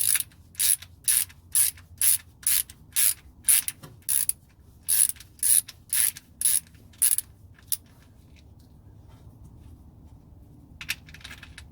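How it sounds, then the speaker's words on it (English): A ratchet wrench tightens the oil drain plug on a 2009 BMW X5 E70 3.0i, clicking in about fifteen quick, evenly spaced bursts over eight seconds, then a few faint clicks after a pause. "So just tighten it hand tight, but give it a couple of extra pushes."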